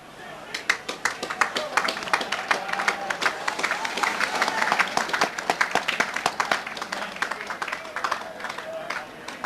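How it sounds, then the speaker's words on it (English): A football stadium crowd at a 1996/97 Plymouth Argyle versus Gillingham league match applauds steadily as the players leave the pitch at half-time, dense sustained clapping with a distant murmur of voices. "So as the players go off at half-time, they deserved applause."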